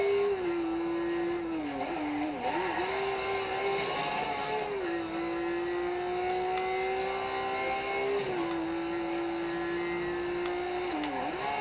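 Simulated race car engine from a racing video game, a steady high droning whine that holds its pitch with brief dips and climbs as the car shifts and accelerates, loud and continuous with no talking.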